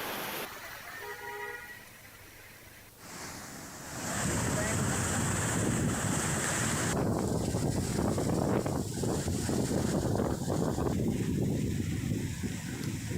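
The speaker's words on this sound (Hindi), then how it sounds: "लठिया नाला पूरी तेजी से बह रहा है" Floodwater rushes through the swollen Lathiya drain in Kota district during continuous rain, a loud, steady, broadband roar that builds after a few seconds and holds constant, heard close with wind buffeting the microphone.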